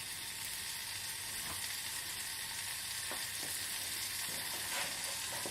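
Butter warms and sizzles softly in a pan ready for pancakes, a faint, even frying hiss with a few small ticks and pops scattered through it.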